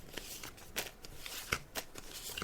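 Tarot cards being laid out one by one for a psychic reading on a radio show, making a string of soft, irregular papery snaps and slides, close but quiet, with no talking.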